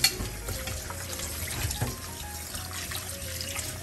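Water runs and splashes steadily as fresh tilapia, rubbed with salt, is rinsed in a kitchen basin, a continuous close wash with small irregular sloshes throughout and no talking.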